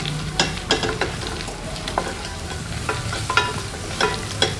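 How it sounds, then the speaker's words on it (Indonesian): Shrimp sauté in a pot until caramelized, giving a continuous close sizzle with repeated scraping stirs at an uneven rhythm. "Kita tumis sampai dia menjadi karamel."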